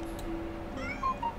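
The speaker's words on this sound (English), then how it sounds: "Is it cat? Little kitten, where is your family?" Kitten meowing in the horror game Amanda the Adventurer, two short high mews near the end over a low steady game background hum.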